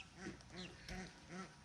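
Birds by a home lake during a bass fishing trip call several times in a row, quacking and cackling calls with a duck-like tone, close and fairly loud over steady outdoor background noise.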